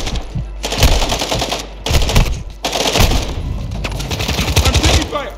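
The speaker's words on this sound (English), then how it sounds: "I'm taking fire." Rapid automatic gunfire from a Call of Duty Modern Warfare 2 DMZ firefight, loud and close in dense sustained bursts with brief gaps, with some speech mixed in.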